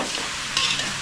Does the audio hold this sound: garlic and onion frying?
yes